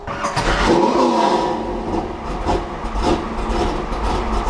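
A 1968 Camaro SS's big V8 engine cranks and fires up on an early morning cold start, then settles into a loud, lumpy, rumbling idle close by.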